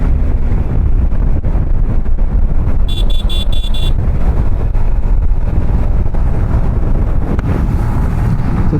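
A Yamaha MT15 V2 motorcycle accelerates with its VVA engaged, the engine roar buried under heavy rushing wind buffeting the microphone, with a brief burst of rapid beeping partway through.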